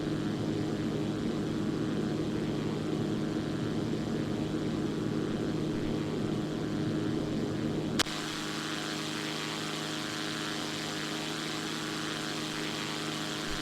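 A Zlín Z-142 propeller engine hums in a steady cockpit drone in X-Plane, then gains power with a sharp click, the tone shifting to a stronger, more tonal note that carries on evenly.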